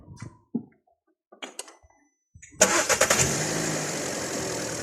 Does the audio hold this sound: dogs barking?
no